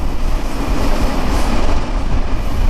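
Chilahati Express train pulling out of Tangail Sadar railway station in Tangail, a steady loud rumble of railcars with clattering wheels throughout.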